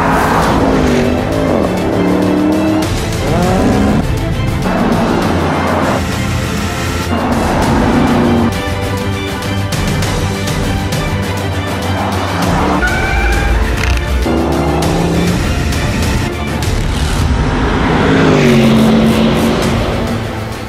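A Porsche Panamera Turbo S e-Hybrid lapping Dubai Autodrome, its engine roaring loud and continuous, pitch rising and falling through repeated gear changes and corners.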